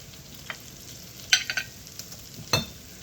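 Garlic frying in olive oil in a pan, quiet steady sizzle broken by a few sharp crackles and spits, the loudest pops coming close together near the middle and end.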